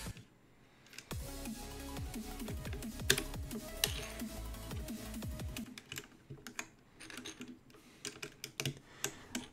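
Fast, close typing on a custom mechanical keyboard with smooth linear switches, a dense run of crisp key clacks that thins into scattered presses toward the end.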